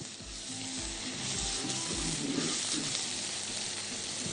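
Onions frying in a pan, a steady dense sizzle with low bubbling and occasional stirring scrapes, close and continuous throughout with no voices.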